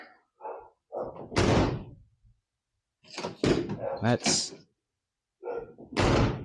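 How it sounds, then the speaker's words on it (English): A 1993 Chevy K1500 pickup truck door, with new door pins and hardware, slams shut several times with heavy thunks and rattles, close by, with someone speaking briefly between the closings. "Let's see how she closes."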